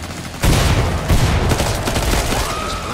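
Rapid automatic gunfire in the zombie shooter game Killing Floor 2, a loud, dense fusillade of close shots rolling continuously with booming echoes, no talking over it.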